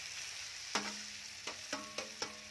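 A chapati warms on a hot tawa, with a steady soft sizzle throughout and four or five sharp metallic clicks as it is turned and shifted on the pan.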